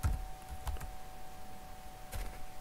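Typing on a computer keyboard during a Laravel coding session, a few sparse key clicks in short bursts over a faint steady hum, quiet and close with no talk.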